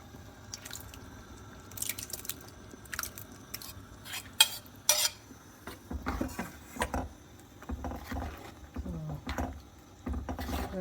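Cooked, slightly mashed tur dal added to a pot of bitter gourd pitlai and stirred with a metal spoon, giving soft wet scraping, clinks against the pot and irregular sloshing, close and moderately quiet with no talking.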